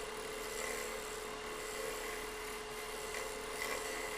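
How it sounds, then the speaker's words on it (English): A wood lathe spins steadily while a tool scrapes a turned wooden sphere, giving a continuous even hum with a faint rubbing hiss throughout. "We'll just scrape a little bit as well."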